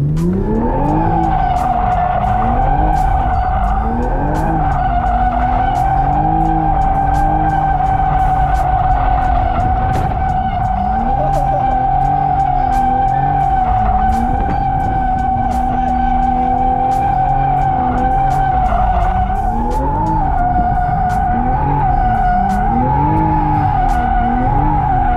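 A Toyota GR Supra drifts around cones with a professional drifter. Its tires squeal continuously and loudly for the whole stretch, over a revving engine note that rises and falls steadily.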